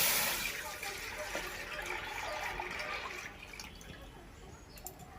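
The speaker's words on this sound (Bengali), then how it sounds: "লিটার দুধ এই কড়ার মধ্যে ঢেলে দেবো।" Strained milk pours from a container into a karahi wok on a lit stove while kheer laddu is being made, a steady close splashing stream that gradually thins and tapers off.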